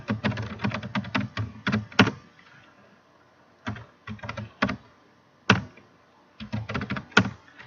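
Typing on a computer keyboard while entering data into an Excel spreadsheet, with close, clicky bursts of rapid keystrokes separated by short pauses and a few louder single key presses.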